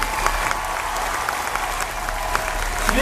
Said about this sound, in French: Mais vous pouvez les applaudir.